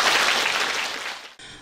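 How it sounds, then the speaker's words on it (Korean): Applause from the audience opening the 29th Korean Maritime Literature Festival in 2025, dense and steady clapping that fades and breaks off, followed by a softer burst. "여러분의 뜨거운 박수로 문을 열겠습니다."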